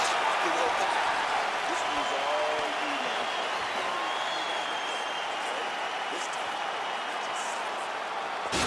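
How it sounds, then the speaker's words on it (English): A virtual arena crowd in the EA Sports UFC 4 video game applauds and murmurs steadily between rounds, a broad, continuous wash of clapping and crowd noise at moderate volume. "the crowd voicing its appreciation after that round"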